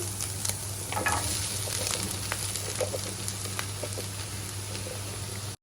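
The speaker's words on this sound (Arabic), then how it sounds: "وهنبتدي كده نقلب المشروم بالراحه كده مع البصل لحد ما المشروم بتاعنا يدبل خالص" Mushrooms frying with onions in a hot pan while being stirred gently, a steady close sizzle with soft scraping stir strokes over a constant background hum, no speech.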